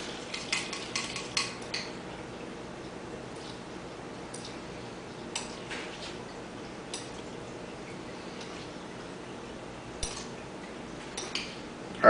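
Spice-coated pieces of food tossed in a bowl, giving light scattered clinks and soft scrapes, quiet and close, with a few brief clusters of ticking contacts and no talking.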